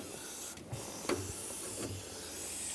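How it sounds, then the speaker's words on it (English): Brake parts cleaner sprayed from an aerosol can onto the fuel injectors of a 1999-2016 Ford E-350 5.4L V8 during intake manifold work: a few short, close hissing spritzes spaced about a second apart over quiet shop background. "Spray a little bit of brake parts cleaner on here, on each injector."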